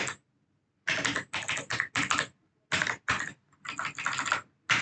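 Quick bursts of typing on a computer keyboard while writing code for access and refresh tokens, close and crisp, with clusters of rapid key clicks separated by short pauses.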